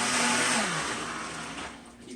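An automatic blender whirs steadily as it blends a green smoothie. The motor's loud broadband roar runs throughout and eases slightly toward the end, with no voices.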